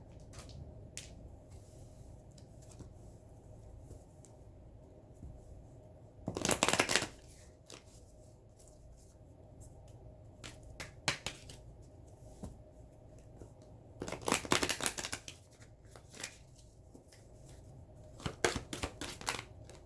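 Tarot cards are shuffled by hand in quiet bursts, a few sharp riffling flurries with soft slides and taps between them, close and fairly faint with no voices.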